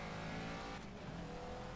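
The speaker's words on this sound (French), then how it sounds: "C'est mythique de conduire une Caterham 7" Caterham 7 racing car driven in Project Cars, a faint engine drone with a steady tone that briefly dips and shifts as the revs change.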